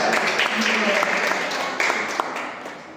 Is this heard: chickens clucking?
no